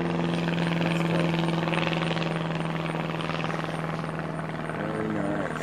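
An airplane passes overhead outdoors, a steady droning engine hum with a strong low tone holding throughout, fairly faint and distant, with light background noise.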